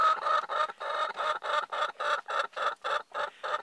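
A chicken clucks repeatedly at close range, a steady series of about a dozen short, rhythmic squawking calls with brief gaps between them.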